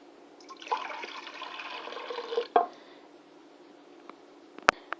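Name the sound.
pouring milk mixture and dissolved yeast into mixer bowl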